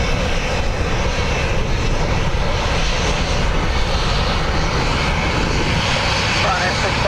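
Aircraft engine roaring steadily and loudly at Dublin Airport on a blustery day, a continuous broadband drone with no break, while a voice talks over it.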